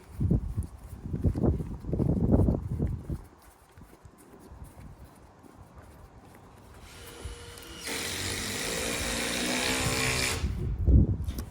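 A power drill drives a screw into a deck. A short whirring buzz is heard near the end, after some handling clatter and knocks.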